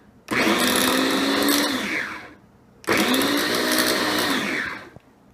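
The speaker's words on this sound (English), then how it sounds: "Lid pops back on, and I puree it in bursts." A blender purees carrots for homemade baby food in two long, loud whirring bursts, each about two seconds, separated by a brief pause, with a faint clunk at the end.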